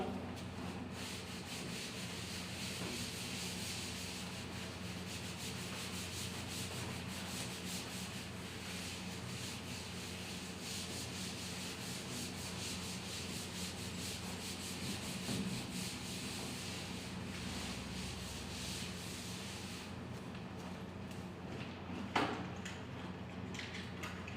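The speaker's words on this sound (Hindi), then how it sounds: "इसको मैं रब कर देता हूं।" Steady rubbing of a duster across a classroom board as a maths lesson moves on, a continuous scraping swish lasting the whole stretch with a brief knock near the end, no talking.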